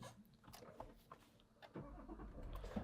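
A Lexus LX 500d diesel starts quietly after a few faint clicks, then settles into a soft, low idle heard from nearby.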